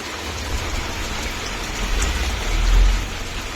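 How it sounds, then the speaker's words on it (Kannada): Heavy rain pours steadily outdoors in a dense, even hiss, swelling slightly louder toward the end, with no voices. "ಹೆವಿ ಐತಿ ಮಳೆ"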